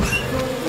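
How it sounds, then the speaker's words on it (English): A dense swarm of cartoon bees buzzes loudly and continuously at close range, a thick droning hum with no voices. "That'll make the bees majorly mellow for the moment."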